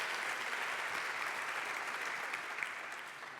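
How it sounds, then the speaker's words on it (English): Conference audience at a global health opening session applauding a speaker, a brief burst of dense, even clapping from a large room. "Applause for Francesca."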